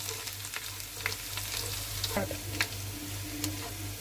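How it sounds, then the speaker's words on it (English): Garlic and ginger fry over a medium flame for homemade Schezwan sauce, giving a constant soft sizzle with occasional sharp clinks and scrapes as the pan is stirred. "We'll fry it for a minute on a medium flame. We'll give it a good stir."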